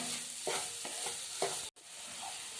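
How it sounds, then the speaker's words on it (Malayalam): Sugar and grated coconut being stirred and melting in a pan, heard as soft close scraping strokes at a slow irregular rhythm over a faint sizzle, with a brief dropout partway through. "പഞ്ചസാര തേങ്ങ നന്നായിട്ട് മിക്സ് ആക്കിയിട്ടുണ്ട്"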